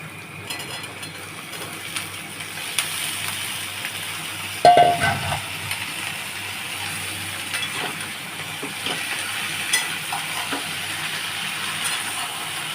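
Ivy gourd pieces tipped into a frying pan of softened onions give a steady low sizzle, with scraping and clattering of a spatula stirring in the pan, close by and without any talking.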